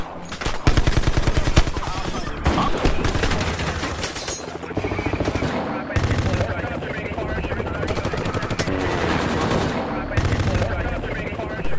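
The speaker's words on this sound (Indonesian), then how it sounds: "adegan kontak senjata yang terjadi antara Departemen Kepolisian Los Angeles dengan para perampok bertopeng" Dense, sustained automatic gunfire in rapid bursts from a shootout between Los Angeles police and masked robbers, loud and close, with overlapping volleys and a helicopter-like thrum beneath, broken by brief pauses.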